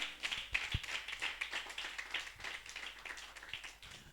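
A church congregation claps together to acclaim the Lord, a steady patter of many hands heard from a distance in a reverberant room.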